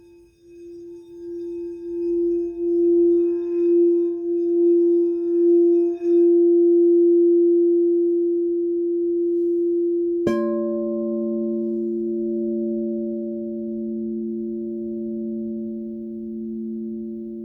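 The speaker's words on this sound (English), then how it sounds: "you can kind of hear the textured quartz parts of the bowl with this mallet" A quartz singing bowl rubbed with a mallet, swelling into a pulsing, pure ringing tone, then a sharp strike producing a rich, sustained layered hum that slowly fades.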